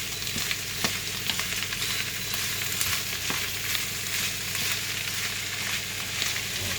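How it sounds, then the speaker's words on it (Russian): Meat sizzles steadily in a hot pan, a dense, even crackle of frying fat with occasional louder pops and stirring clicks throughout. "И даем ему хорошенько обжариться"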